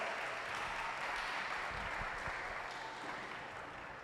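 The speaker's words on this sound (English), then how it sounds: "So guys, yes, round of applause." A crowd at a Microsoft Day 2024 corporate event claps in a continuous, fairly distant wash that holds steady and then thins slightly toward the end.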